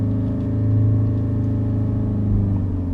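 A 2015 Ford Mustang EcoBoost Performance Pack with six-speed manual held near 3,000 RPM before a timed launch: a loud, steady, close engine drone with low rumble and slight swells, no talking.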